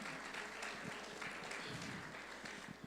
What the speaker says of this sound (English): Give a hand or a round of applause for Hilton Hotel